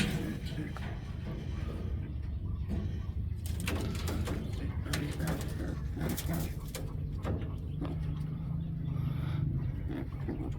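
Pigeons cooing in a loft, repeated low throaty coos rolling over each other nearby, mixed with wing flutters and rustling, while someone talks quietly at times.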